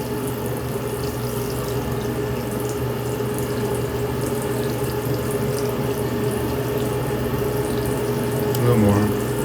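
Water streams steadily into a sink in a small studio apartment while rice is being prepared, with a constant rushing flow, a faint steady hum under it and a brief splashy burst near the end.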